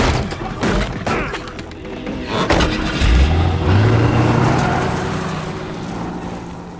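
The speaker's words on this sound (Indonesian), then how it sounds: "si wanita segera membawa Snake pergi dari sana dengan menggunakan mobil" A car pulls away in a dramatic film scene, its engine rising in pitch as it accelerates after a few heavy thuds, fairly loud and close, with a busy, noisy soundtrack around it.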